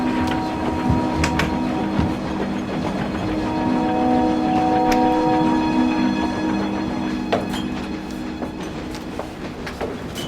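A passenger train runs steadily with a low rumble and hum, punctuated by faint clicks and rattles of the cars, continuous and fairly loud with no voices.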